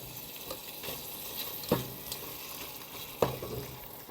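Beef fries in a pan with a steady close sizzle, broken by two brief clinks of a utensil stirring against the pan.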